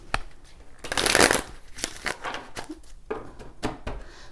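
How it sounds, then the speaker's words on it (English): Tarot cards being shuffled by hand, crisp riffling and papery flutters in irregular bursts, with one long dense riffle near the start and shorter snaps and slaps after, close and fairly loud. "I feel like I got to shuffle."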